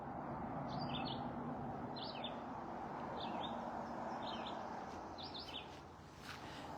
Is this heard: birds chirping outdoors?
yes